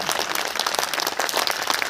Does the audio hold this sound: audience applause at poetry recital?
yes